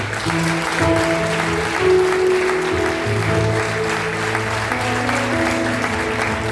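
A church congregation applauds, steady loud clapping that lasts the whole stretch over sustained background music, and no one speaks.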